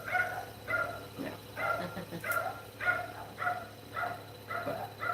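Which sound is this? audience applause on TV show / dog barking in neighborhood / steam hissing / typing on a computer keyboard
dog barking in neighborhood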